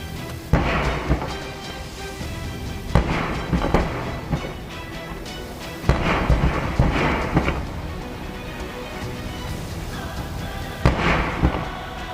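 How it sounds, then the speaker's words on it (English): Gas cylinders from a truck that collided with a bus in Russia explode in succession: a rapid series of loud, booming blasts at regular intervals, each burst followed by roaring, crackling rumble. "The impact caused the gas cylinders to explode in succession, creating massive fire columns"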